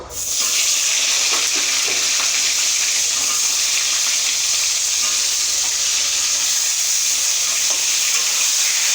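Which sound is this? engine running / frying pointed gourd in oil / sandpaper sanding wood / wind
frying pointed gourd in oil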